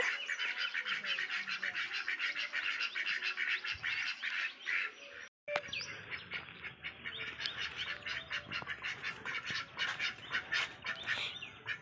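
Duck calls repeat steadily and fairly loud outdoors, a dense run of quacking that breaks off for a moment in the middle before resuming.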